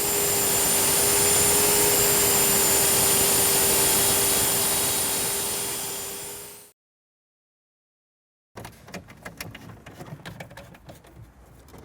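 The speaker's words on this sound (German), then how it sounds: "Und das mache ich jetzt mit der Powerfeile." A power file sands down a car radio mounting frame in a VW Passat B6 (Typ 3C), taking off several millimetres: a loud, steady abrasive whine runs for about seven seconds, cuts off into silence, then light clattering handling noises follow.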